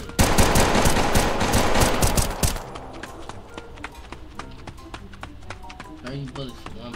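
Gunfire in a street shooter video game set in the South Bronx, a loud dense burst of rapid shots for over two seconds, then scattered quieter sharp shots and clicks through the rest.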